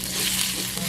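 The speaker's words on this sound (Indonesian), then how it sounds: "kita masukkan ikan parinya, kita tumis sebentar" Smoked stingray stir-fried in a hot pan with bay leaves, giving a loud, steady, dense sizzle with faint stirring scrapes and no talk.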